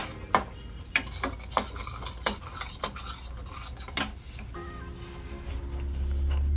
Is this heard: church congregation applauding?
no